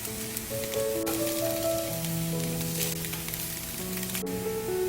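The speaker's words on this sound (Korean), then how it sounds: "맛살을 구운 팬에 기름을 따로 두르지 않고 햄을 이어서 구워주세요" Ham sizzles in a dry pan with no oil, a steady, soft crackle running throughout beneath sustained background music tones.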